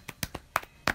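A few sharp, irregular hand claps, close and fairly quiet, about five slaps spaced unevenly within a second.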